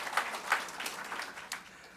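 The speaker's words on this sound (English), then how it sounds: "let's give him some applause as well" Brief, light applause from an audience at a book launch event, a soft patter of clapping that quickly fades over about two seconds.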